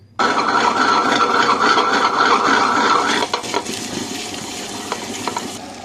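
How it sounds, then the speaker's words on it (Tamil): Steady, dense grinding churn with a wet, gritty texture runs continuously, easing slightly after a few seconds; a motorized stone wet grinder working soaked urad dal up close, batter for idli. "இப்போ வாங்க இது கிரைண்டரில் போட்டுடலாம்"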